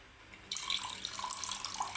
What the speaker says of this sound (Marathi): मी थोडंसं पाणी टाकणार आहे